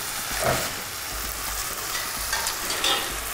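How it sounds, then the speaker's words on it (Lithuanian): Loud sizzling and bubbling in a pan with stirring scrapes, a steady frying hiss throughout. "Pagaliau atėjo laikas pilti sultinį."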